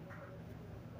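A cartoon duck gives a short, faint quack in a children's alphabet rhyme, a single brief nasal call over quiet background.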